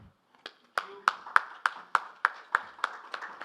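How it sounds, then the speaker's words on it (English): Sparse, rhythmic clapping from a conference audience, about a dozen distinct claps at a steady beat, fairly close and isolated with little background. "we can be much more louder with our applause"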